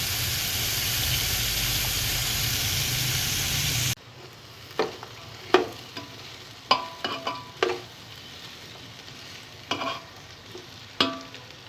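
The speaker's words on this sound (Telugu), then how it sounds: "ఉడుకుతున్న బిర్యానీ నీళ్ళల్లో కొద్దిగా 1 స్పూన్ నెయ్యి వేసుకోవాలి." Water for vegetable biryani with a spoonful of ghee added, first a steady loud hiss and bubbling boil, then a quieter stretch broken by scattered stirring clinks and sizzling pops close by.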